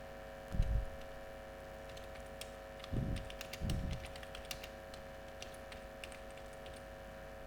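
Computer keyboard typing, heard as sparse, light key taps and a few louder thumps in a quiet room, with no talking.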